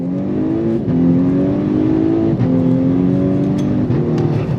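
A VW Golf R Mk6, a 2-litre turbocharged all-wheel-drive hot hatch with a dual-clutch gearbox, accelerating hard through quick upshifts. The engine note climbs steadily between each brief shift dip, heard from inside the car.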